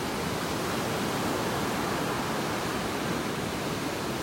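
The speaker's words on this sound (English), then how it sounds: "These darn waves make it so hard to spot our dolphins." Continuous broadband wash of surf breaking on a beach in North Naples, Florida, steady and fairly loud with no distinct individual wave crashes standing out.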